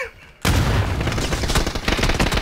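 A grenade goes off in PUBG, a sudden loud blast after a quiet start, followed by a sustained roaring, crackling rumble with bursts of gunfire-like impacts.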